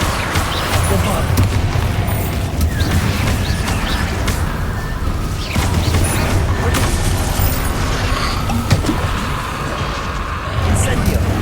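Bombarda explosion spells booming in Hogwarts Legacy amid dense, continuous combat noise, heavy low rumble throughout with several louder blasts, loud and close, with a voice shouting spell names over it.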